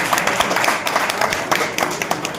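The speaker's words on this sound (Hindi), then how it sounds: "जोरदार ताली" Loud clapping from the audience at a kavi sammelan poetry gathering in Banda, a short burst of brisk, fairly close hand claps with uneven rhythm.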